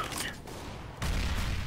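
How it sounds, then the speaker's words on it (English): A grenade goes off in the game Counter-Strike: Global Offensive, one loud blast with a gunfire-like crack that cuts in near the end over constant background noise. "Grenade out!"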